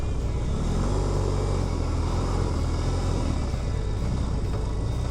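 BMW R18 Bagger motorcycle on the road, a loud continuous engine drone and rumble mixed with heavy wind buffeting, steady throughout.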